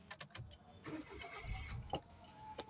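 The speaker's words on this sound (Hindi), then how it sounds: "तो अब ये गाड़ी गाइस स्टार्ट हो चुकी है" A Suzuki Jimny 660cc turbo 4x4 cranks and fires up, a short starter churn followed by the engine catching and settling into a low idle, with a few clicks and keys jingling nearby.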